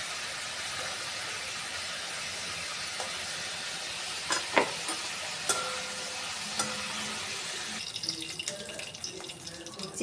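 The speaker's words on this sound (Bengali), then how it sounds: "চিকেনগুলোকে আমি দই থেকে ছেঁকে নিয়ে এইভাবে একটু ভেজে নেব" Chicken pieces marinated in yogurt fry in oil with a steady, broad hiss, while a few sharp clicks and pan knocks sound close over the continuous sizzle.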